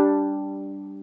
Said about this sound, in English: It's where you play two strings at the same time.